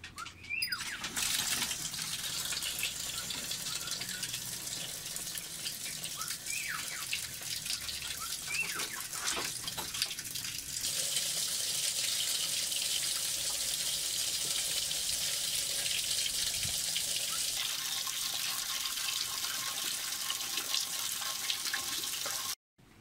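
Water runs steadily from a tap into containers dosed with a pink cleaning solution for an overnight soak in a backyard, a continuous splashing gush that changes pitch as the vessels fill.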